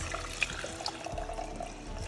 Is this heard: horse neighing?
no